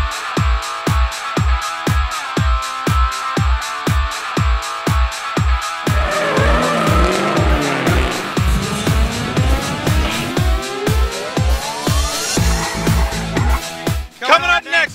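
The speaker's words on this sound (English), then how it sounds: "High revving engines, drifting." Drift cars at a competition event rev their engines hard in rapid rhythmic bursts, then scream through a long drift with squealing tires, loud and close throughout.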